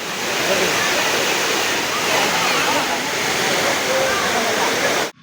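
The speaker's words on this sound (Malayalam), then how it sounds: "വെള്ളം ഇങ്ങനെ ഒഴുകി ഗളകള സൗണ്ടിൽ ഇങ്ങനെ ഒഴുകി പോകുന്നത്" Water rushing over Palaruvi waterfall in a Kerala forest, a steady, loud, broadband roar of falling and splashing water that continues unbroken, then cuts off abruptly at the end.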